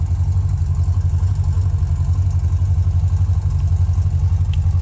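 An old truck that sat unused at a grandfather's place for years idles steadily on its own right after first startup, with a loud, even low rumble and a rapid regular pulse running throughout.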